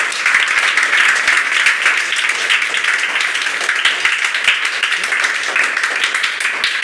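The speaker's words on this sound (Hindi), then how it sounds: "तो हमारी पूरी टीम के लिए एक बार तो ताली बजनी चाहिए" A dense, steady burst of audience applause at an academy results ceremony, many hands clapping together without pause for nearly seven seconds, loud and close.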